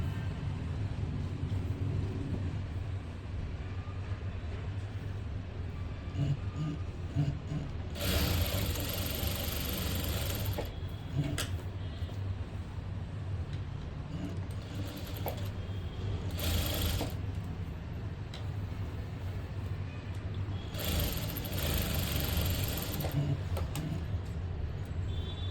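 A sewing machine stitches a plain blouse in several bursts of rapid whirring, separated by quieter stretches of low hum and handling noise.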